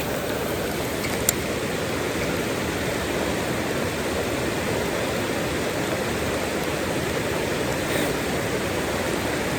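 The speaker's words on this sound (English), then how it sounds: "So this water's rolling pretty good, and apparently a lot deeper than it normally is." A high, fast-flowing creek running deeper than usual, heard as a loud, steady, broadband rush of water throughout, close by and unbroken, with no voices.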